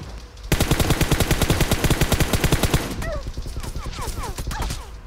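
Rapid automatic gunfire from a PUBG Mobile match rattles in a loud, dense burst for about two and a half seconds, then gives way to scattered, quieter shots and in-game effects.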